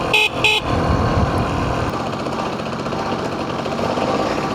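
A horn on an old Bajaj M80 motorcycle gives two short, bright honks right at the start, followed by a steady rough engine rumble that carries on loud to the end.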